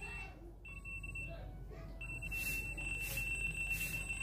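A phone-based continuity tester beeps while checking a good resistor, giving faint high-pitched tones that start and stop and then hold steady over a low electrical hum, with quiet background noise.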